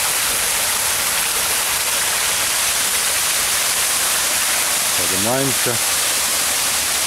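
A small waterfall heard from a bridge, a loud, unbroken rushing roar of falling water close by, with someone speaking one brief word over it near the end.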